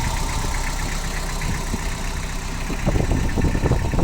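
Mitsubishi MT305 compact four-wheel-drive tractor with a tiller idles steadily, a dense low diesel rumble with knocking, growing slightly louder and rougher toward the end, close and without voices.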